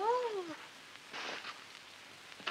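A cat meows in a rising then falling wail near the start, clear and fairly close, followed by soft rain-like hiss and faint rustling.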